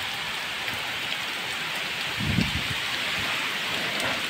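Heavy rain drums steadily on a house during a windy downpour in a village in Odisha, with a dense, unbroken hiss and a brief louder surge partway through.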